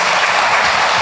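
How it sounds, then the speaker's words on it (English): Audience applause after a history lecture, a dense steady wash of clapping from a seated crowd, loud and continuous through the whole second with no voices on top. "applause to Dr. Magra"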